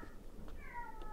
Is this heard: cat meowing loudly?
yes